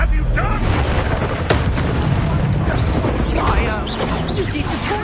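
A fire spell bursts into a booming explosion in Hogwarts Legacy, a loud dense roar with a sharp crack partway through, mixed with game effects and voices talking over it.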